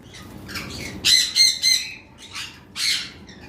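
Pineapple conure parrots squawk in short, harsh bursts, several loud calls in quick succession, with a pause before one final squawk, close by.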